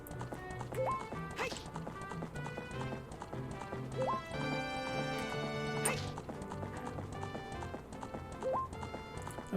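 A horse gallops in the Ocarina of Time video game, a fast rhythmic clip-clop of hooves running the whole way through, mixed with game music and sound effects and a brief neigh.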